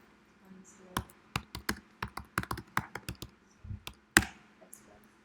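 Keys clack on a computer keyboard as an uninstall command is entered, a close run of distinct taps in uneven bursts with short pauses and one sharper final strike, like an Enter press.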